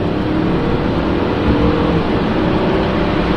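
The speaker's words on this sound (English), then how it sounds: "So let's push the throttle a little bit." An Audi A8 with a 6.0 W12 engine in normal D mode holds a steady, loud low-pitched drone from inside the cabin as the throttle is pressed, with no clear separate rev peaks.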